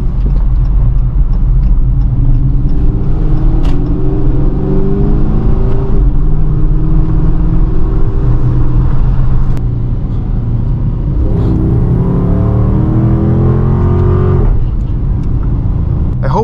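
Dodge Charger R/T with a newly welded exhaust, rumbling steadily with a deep low drone through a continuous drive, rising in a couple of places as the engine pulls harder.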